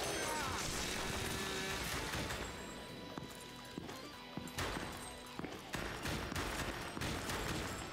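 Rapid bursts of gunfire mixed with crashing and smashing objects in the House of the Dead Remake shooter on Nintendo Switch, dense and continuous at first, then choppier with sharp individual impacts and clatter.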